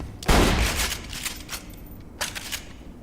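A shotgun with very fast reload fires in Borderlands 2: one loud close blast opening with a boomy low thump and rolling tail, then a fainter sharp crack a couple of seconds later.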